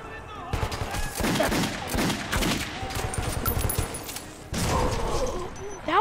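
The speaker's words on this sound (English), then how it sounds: "That was a grenade!" Grenade explosion in Metro 2033 amid clusters of close gunshots and rattling bursts, with a heavier blast partway through and a voice talking over the action.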